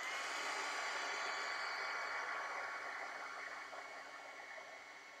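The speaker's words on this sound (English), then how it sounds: "So I'm just going to get my heat gun." Heat gun blowing steadily while drying a subtle shimmer-painted background, a continuous airy hiss held close that eases slightly toward the end, with no talking.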